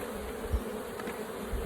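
Honey bees hum at an open beehive, a steady close-up drone of many insects with small swells in loudness.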